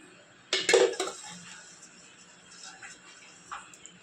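A dish clattering as oil is taken for Gujarati egg curry: a sharp close burst of clinks and knocks, then quieter scattered handling taps, with a faint voice in the background.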